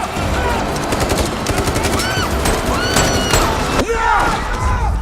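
Machine gun fire from The Walking Dead TV show, loud sustained automatic bursts with thuds and ricochet-like whines, dense and close throughout.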